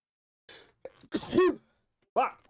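One close, sharp sneeze with breathy sounds just before it and a short vocal noise shortly after, in an otherwise quiet room.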